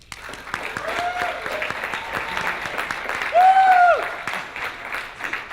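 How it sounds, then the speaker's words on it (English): A room full of people claps as a vote for the winning team in a speed debate, a sustained mass of clapping. A few voices call out briefly over it. "Clap now, please."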